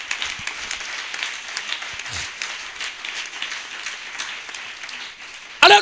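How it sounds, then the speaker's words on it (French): A church congregation claps for Jesus with steady, scattered applause from many hands in a reverberant hall, and a louder burst of sound comes at the very end. "Clap for Jesus"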